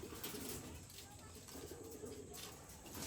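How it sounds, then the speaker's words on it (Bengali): Pigeons coo softly in a loft, likely Rajshahi Giribaz flying pigeons. The low cooing is faint and distant under a steady background hiss, with indistinct voices nearby. "প্রত্যেক বাসাতে কিছু কবুতর থাকে যে সবসময় ডাকতে থাকে"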